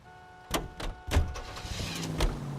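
Car in the L.A. Noire video game pulling away, with a door thud and bursts of engine and motor noise rising over a steady hum, close and moderately loud.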